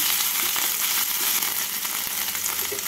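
Grated ginger and green chillies sizzle in hot oil with cumin as they are stirred in a pan, a bright, continuous crackling hiss with occasional soft scrapes of the spoon.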